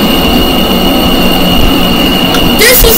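A New York MTA subway train in a Roblox game rumbles loudly and steadily with a steady high whine, ending in a brief squeal, as a voice talks over it.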